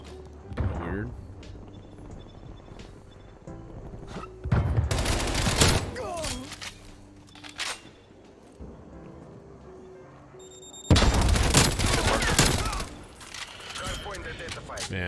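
MP5 fire in Call of Duty Cold War multiplayer, heard as bursts of rapid gunfire in two loud stretches with quieter game sounds and clicks between them, while a player talks throughout.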